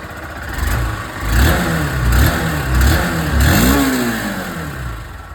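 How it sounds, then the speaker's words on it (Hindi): A 2025 Honda SP160 OBD 2B motorcycle exhaust is blipped several times from idle, each throttle rev rising and falling in a rhythmic pattern, close and fairly loud, with the engine settling back to a low idle between pulls. "लेकिन एग्जॉस्ट साउंड आप लोग सुन लीजिए।"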